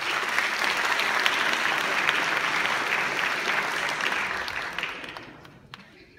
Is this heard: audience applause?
yes